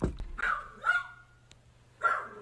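A dog in the Slendytubbies game gives a few short barks in three separate bursts, fairly close and moderately loud, with quiet gaps between.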